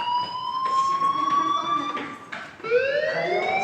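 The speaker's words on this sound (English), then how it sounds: "Hey, do you hear that fire alarm?" Fire alarm ringing in the video game Life Is Strange, a steady electronic tone that rises and sweeps in pitch, loud and continuous across the whole stretch with no voices.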